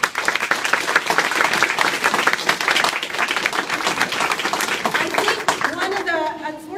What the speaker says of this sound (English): So another round of applause for Yanis.